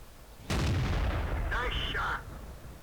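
An E-50 tank fires its cannon in World of Tanks: one sudden, loud boom followed by a brief ringing metallic tone as the shot lands.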